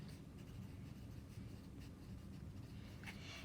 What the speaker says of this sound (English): I need to write down that given information.